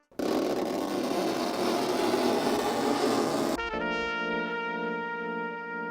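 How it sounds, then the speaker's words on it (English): A broad, rough scraping noise runs steadily for about three and a half seconds, then abruptly gives way to a ringing, tonal hum that sustains to the end. "a lovely scraping sound"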